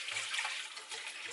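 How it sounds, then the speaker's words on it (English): Water pours out of a pot of cooked spaghetti being drained in a home kitchen, a steady close rushing splash with a few low gurgles underneath. "I have to drain the water from the pasta"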